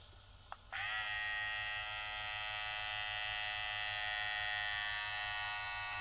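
A Hatteker SK100 electric hair trimmer switches on after a brief click and runs with a steady, high-pitched motor buzz, close and continuous to the end with no talking.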